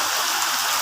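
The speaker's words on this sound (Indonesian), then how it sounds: "Agak berisik dikit ya karena di luar lagi hujan" Steady rain falling outdoors in Tondano, Minahasa, while rica-rica cooks nearby: a dense, even hiss of drops, constant and fairly loud throughout, with no voices.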